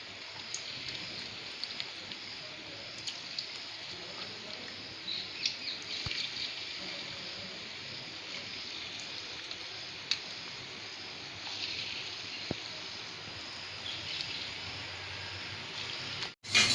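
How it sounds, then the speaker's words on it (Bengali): Marinated chicken pieces frying in hot oil in a wok for chilli chicken, giving a continuous even hiss like rain, close and unbroken, with a few faint clicks over it. "এখন আস্তে আস্তে আমরা ম্যারিনেট করা চিকেনগুলোকে ফ্রাই করে নেব।"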